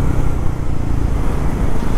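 Triumph Scrambler 400X motorcycle with a 400 cc single-cylinder engine pulling hard under acceleration, a steady loud low engine drone with road and wind rush and no talk.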